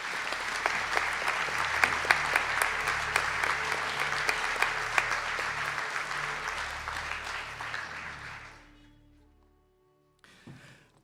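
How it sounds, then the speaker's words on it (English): Audience applause for graduates at a spring university conferring ceremony in Donegal: loud, dense clapping from a large crowd that holds steady for about eight seconds, then tapers off into near silence with a brief rustle at the end. "Can you please show your round of applause for the graduates?"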